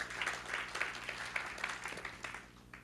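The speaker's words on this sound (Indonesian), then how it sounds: "Berikan tepuk tangan." Applause from a church congregation, a fairly faint, steady patter of many hands clapping for a few seconds with no speech over it.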